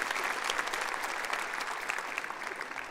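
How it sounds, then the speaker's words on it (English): A high school graduation audience applauding, a dense, even burst of clapping from a large crowd in a hall that holds steady throughout. "You can give yourselves a round of applause."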